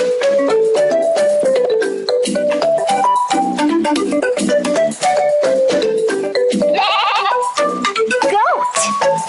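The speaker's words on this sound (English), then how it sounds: "Goat." A goat bleats over and over in a long, steady series of wavering calls, loud and near, with no spoken words.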